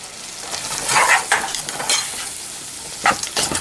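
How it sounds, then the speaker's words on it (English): Food stirred in a frying pan with peppers just added, sizzling steadily with several louder scraping stirs near and clear, no talking. "Give this another stir."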